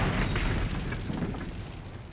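A warship blowing apart in a huge explosion during the Battle of Trafalgar, a sustained loud, deep rumbling roar that slowly thins out, with no voices.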